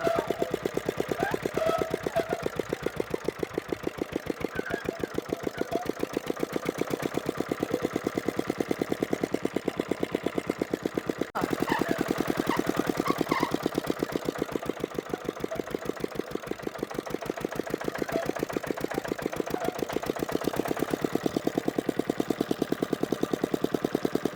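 A homemade motorcycle built around an old Peter engine runs steadily nearby, its low, rapid chugging beat pulsing evenly throughout with a brief break near the middle, and faint voices in the background.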